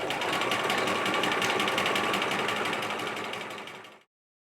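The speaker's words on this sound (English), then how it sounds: "And I'm sewing so that I'm half on my print fabric and half on my extra fabric." A sewing machine stitches through print fabric and an extra layer, a fast, steady close mechanical whir running continuously for about four seconds before stopping abruptly.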